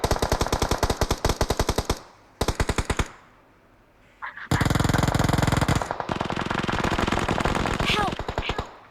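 Rapid automatic gunfire in the video game PUBG: dense bursts of rattling shots, loud and close, broken by brief pauses, with a voice shouting once mid-battle.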